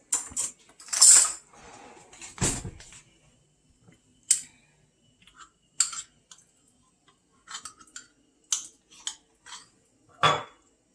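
Metal spoon scooping marmalade from a jar for orange chicken sauce, a scattered series of short clinks and scrapes, some louder and close, separated by quiet gaps.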